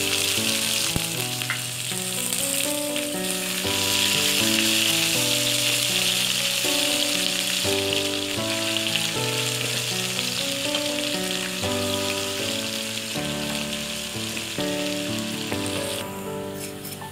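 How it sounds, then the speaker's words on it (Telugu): Onions fry in hot oil for veg biryani in a rice cooker, a bright, steady sizzle that runs the whole time beneath a melodic music track with a clear note pattern. "చూడండి ఆయిల్ హీట్ అయిపోయింది. ఇప్పుడు ఆనియన్స్ వేసుకుందాము."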